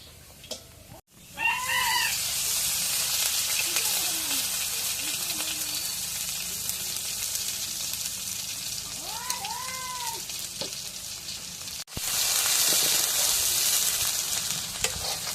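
Onions sizzle steadily in a frying pan (a kadai), a broad hiss filling most of the stretch after a brief pause near the start, with faint cat meows or chirps drifting in over it.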